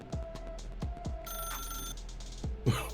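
An in-game office telephone in The Stanley Parable rings with bright, repeated bell chimes, close and clear, over a steady low hum, with no voices.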